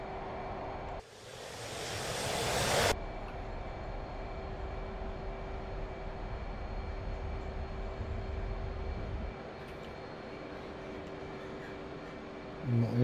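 A jet in DCS World powers up on takeoff with a broad rising roar that holds steady, then fades to a lower engine drone, loud and continuous under occasional voices.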